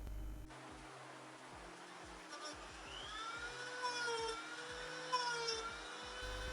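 A power drill boring holes into a slide support plate, a rising and falling whine with gliding pitch that stops and starts over faint background noise, close by.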